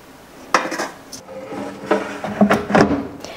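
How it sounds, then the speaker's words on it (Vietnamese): Clattering metal and clinking as pig tail pieces are set into an air fryer basket one after another, irregular knocks and scrapes close by. "Mình sắp từng cái đuôi vô trong cái nồi chiên ha"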